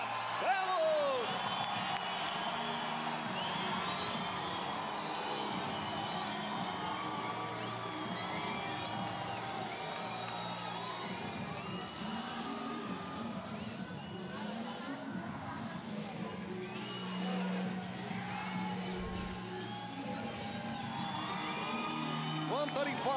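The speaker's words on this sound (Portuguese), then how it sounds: "recebam com uma calorosa salva de palmas, Raoni Barcelos!" A big indoor crowd at a UFC weigh-in cheers and shouts in a steady, dense roar, with an announcer's voice booming over the noise.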